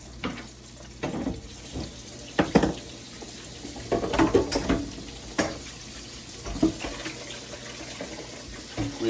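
Running water from a kitchen sink tap as hands are washed, a steady splashing wash broken by irregular louder splashes and clatters across the whole stretch, with no speech.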